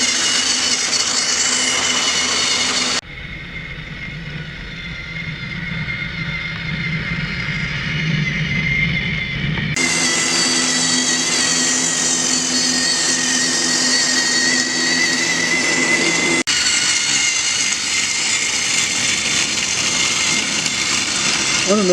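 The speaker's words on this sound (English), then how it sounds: "we're going to give him a run around the track" A Thomas and Friends Big City Engine toy train running on its track, a loud continuous motorized whir that shifts in pitch and tone several times, with abrupt changes as it travels close by.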